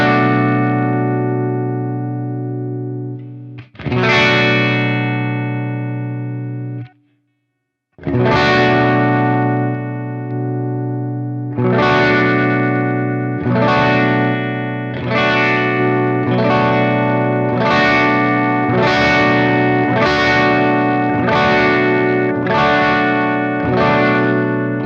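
An electric guitar through a bridge humbucker with the variable coil split set midway plays distorted, chorus-tinged chords with reverb, strummed in repeated hits after a brief pause, loud and close with no talking.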